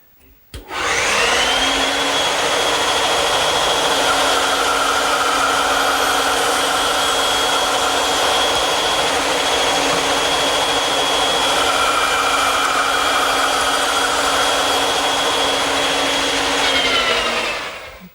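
A woodworking power tool cuts a tenon for a standing mirror, spinning up to a loud steady whine that holds for about sixteen seconds, then winds down.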